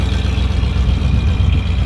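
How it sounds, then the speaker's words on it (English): A Series 1 Rover P6 estate's engine burbles steadily at idle through a leaky exhaust, a loud, close, continuous low rumble with no talking. "The leaky exhaust and a slightly crusty balance there."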